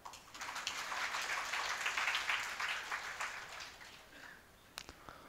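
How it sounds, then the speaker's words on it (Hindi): An audience at a talk session in Yavatmal breaks into applause, a dense wash of clapping that swells, holds for about three seconds, then thins into a few scattered claps. "हाँ, ताली अच्छे से बजा लो।"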